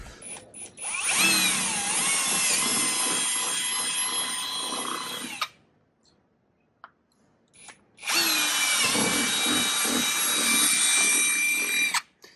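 A power drill bores into the bumper of a BMW E92 while a front lip is being fitted. Two loud, close, whining bursts of several seconds each are separated by a short quiet pause.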